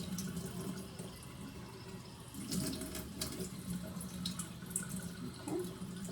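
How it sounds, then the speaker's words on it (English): Tap water running over hands being rinsed at a sink during handwashing, a steady close splashing stream with shifting gushes as the hands move under it. "So once you start rinsing, your hands do need to face down."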